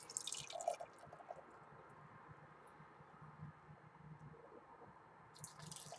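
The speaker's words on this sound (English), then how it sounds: "Pour it into the glass." Double IPA pours into a glass with soft, quiet dripping and liquid splashing, faint and close, with no talk.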